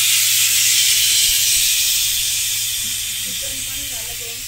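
A pressure cooker hisses loudly as it releases steam while cooking chicken, a steady, close, broadband jet that fades slowly toward the end while a faint voice speaks underneath.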